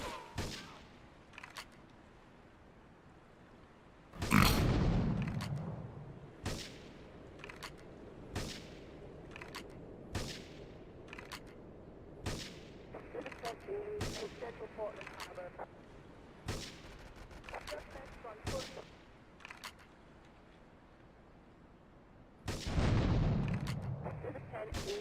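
Gunfire and explosions in Grand Theft Auto: sharp, scattered shots crack through a quiet game scene, with two heavier booming blasts and some faint talk in between.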